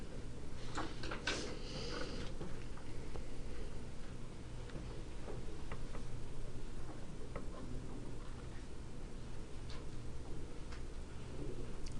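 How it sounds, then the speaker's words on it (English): Students working quietly in a classroom, with faint scattered ticks, taps and shuffles of pens and papers over a steady room hum and no clear talking. "This is the sound of people working ahead of me and doing well."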